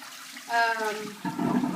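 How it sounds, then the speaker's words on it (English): Cold water runs from a tap into a pot of boiled eggs, a close, steady pouring rush with a brief tonal whine, then shifting to a lower, louder splash near the end. "So now I put cold water in here."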